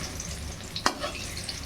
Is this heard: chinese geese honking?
no